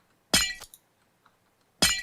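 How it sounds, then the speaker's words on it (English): Minecraft's glass-breaking sound effect plays twice, each a sharp, bright crash with ringing tinkles and some low impact, loud and close, separated by near silence. "That glass breaking."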